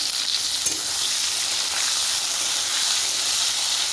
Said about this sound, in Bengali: এটা ভেজে নেবো ভালো করে।